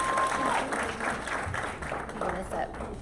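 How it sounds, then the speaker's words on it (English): Audience applause for panelists at a women in tech summit, a dense wash of clapping with cheering voices mixed in, fairly loud and steady through the short stretch. "give them a round of applause."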